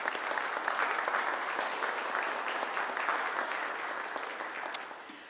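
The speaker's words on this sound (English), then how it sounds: "Give yourself a round of applause." Donors gathered in the audience at a partnership announcement for the Weidner Center give a warm round of applause, dense clapping that stays steady then slowly tapers off.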